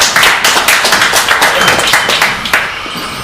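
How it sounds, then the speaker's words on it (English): Scattered clapping from the audience at a game presentation in Hamburg, a fairly thin patter of hand claps with uneven rhythm that carries on steadily for a few seconds. "Big round of applause for Andreas."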